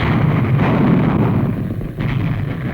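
Naval guns bombard Iwo Jima in 1944 archival film footage, a dense, rumbling barrage of heavy blasts and roaring noise that runs continuously and loud throughout, with no clear gaps between shots.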